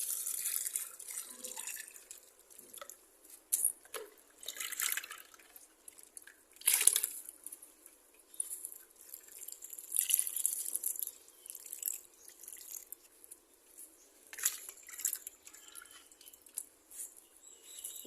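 Water draining out through the holes of a potted rose plant after watering, heard as faint, irregular drips and trickles that come and go over a quiet background.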